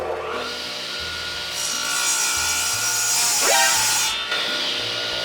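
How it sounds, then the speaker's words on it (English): A radial arm saw cuts tenons into small wood pieces, the motor whining steadily while the blade bites through the wood in a loud, continuous rasping cut that swells and eases over several seconds. "I'm over here at my old best friend, Mr. Radial Arm Saw, and I've got all of these little pieces I need to cut little tenons into."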